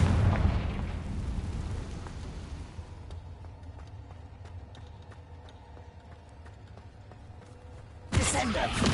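A magical Confringo explosion spell in Hogwarts Legacy bursts loudly at the start, its blast rumbling and fading over a few seconds, with scattered crackles, then another burst near the end.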